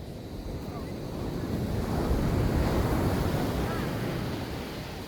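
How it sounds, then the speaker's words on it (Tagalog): Strong ocean waves at a beach in Cabangan, Zambales, Philippines, surge and crash in a steady roar, building to a louder swell midway with wind rumbling against the microphone. "Malakas kasi ng alon"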